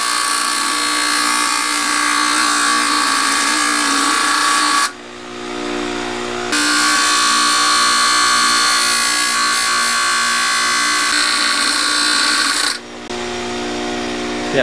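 A grinding wheel cutting small chunks off during a Marvin window build: a loud, continuous harsh whine and rasp up close, briefly easing off twice before resuming.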